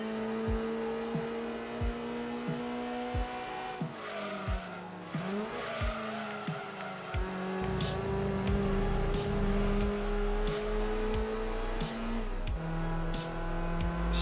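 Gran Turismo 2 race car engine revs and climbs through gears, with a downshift and tire squeal mid-run, then a louder rumbling acceleration toward the end, close and prominent.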